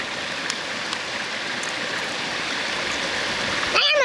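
Running water flows steadily for hand washing beside a seafood meal, a close, even rushing hiss that holds throughout, with a brief splash at the very end and a voice only faintly present.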